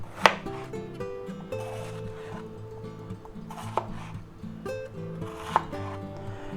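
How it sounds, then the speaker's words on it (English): A knife chops bell peppers into big chunks on a cutting board, with a few sharp, close knocks of the blade and softer cutting sounds under steady background music. "we're going to cut these into pretty big chunks"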